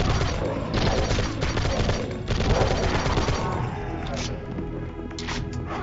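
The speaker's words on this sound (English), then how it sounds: "Then you get the machine gun, which looks like a Thompson Hellriegel. This thing is odd, but again, it sounds satisfying" Machine gun resembling a Thompson Hellriegel firing in the N-Gage shooter Ashen, a dense rattling burst of rapid shots with crashing impacts, loud and continuous, followed by sharper clicks near the end.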